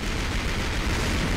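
Tank cannon fire in the artillery game Shellshock Live, a dense, loud, sustained boom of blast noise filling the short moment with no pause.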